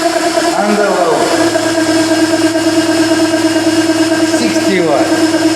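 An 80 W electric motor drives a permanent-magnet generator, giving a steady, loud mechanical hum with strong tonal bands that holds constant throughout, with brief swooping tones near the start and end.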